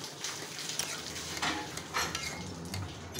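A spoon stirs and mashes taro in a simmering lentil curry, with scraping and knocking against the pot over a soft bubbling sizzle, moderately close, with irregular strokes and no talking.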